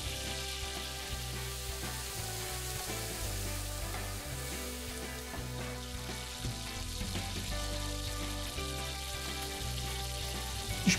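Mushrooms and onion fry in a pan with a soft, steady sizzle that runs throughout, fairly faint beneath continuous background music.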